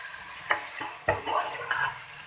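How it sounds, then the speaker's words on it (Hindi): Meat coated in ginger garlic paste is stir-fried in a pot for bhindi gosht, giving a steady sizzle broken by a few sharp scrapes and knocks of the spoon against the pot. "अच्छे से भूनना है।"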